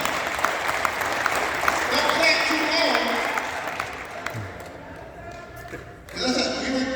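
An audience at a keynote on ending mass incarceration applauds loudly, the clapping fading out toward the end while a speaker talks over it and a brief cheer returns at the close.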